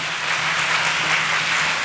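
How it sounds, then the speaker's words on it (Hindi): A church congregation claps together through a Sunday service in Kolkata, a dense, even wash of applause lasting under two seconds with no speech on top. "तालियां बजा के हम परमेश्वर को धन्यवाद दे प्रिय भाई बहनों"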